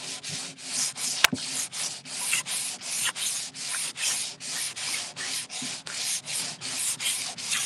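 Rhythmic back-and-forth strokes of 60-grit sandpaper scuffing a patched wooden surface, steady and close, with one sharp knock partway through.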